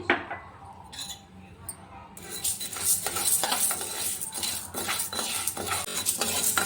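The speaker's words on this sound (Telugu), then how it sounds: "రెండు స్పూన్ల ఉద్దిపప్పు అలాగే రెండు స్పూన్ల కందిపప్పు వేసి వేయించుకోవాలి" Urad dal and toor dal dry roasting in a pan, a spoon scraping and clinking against the metal with a light rustle and faint sizzle, busy and close, starting quieter and growing louder after the first two seconds.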